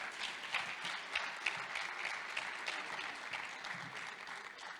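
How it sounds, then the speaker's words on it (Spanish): An audience at a sports awards gala in Canet d'en Berenguer gives an even round of applause, heard quietly as if from a distance, a continuous soft patter of many hands lasting several seconds. "Fuerte aplauso, por favor."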